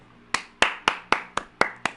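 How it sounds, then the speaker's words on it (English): Seven sharp hand claps sound close and crisp at an even, slightly slow pace in a quiet room, each one a distinct smack with a short decay. "you have my applause."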